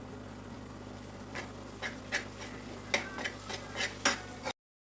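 Flour being roasted in melted butter and ghee for a pasta casserole, stirred with a spoon that scrapes and taps the pan in irregular bursts over a low, steady sizzle, close and moderately loud with no talking.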